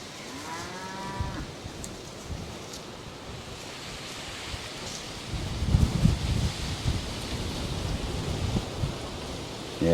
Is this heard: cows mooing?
yes